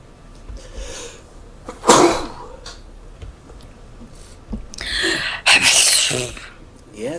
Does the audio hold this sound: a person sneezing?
yes